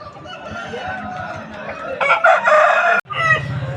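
A rooster crows loudly and close by at a rooster market in Vijayawada, one long drawn-out call, with other birds clucking and a general background murmur.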